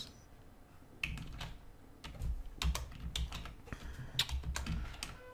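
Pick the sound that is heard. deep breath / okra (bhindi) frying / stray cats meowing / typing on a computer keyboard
typing on a computer keyboard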